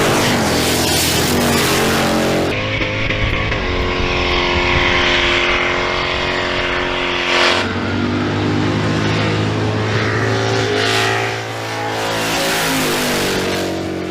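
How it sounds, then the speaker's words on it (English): Two cars race side by side through the last turn while doing a burnout, engines roaring loud and continuous with shifting pitch and a sustained tire-spinning drone. "When they hit the last turn, they'll be side by side racing while doing a burnout."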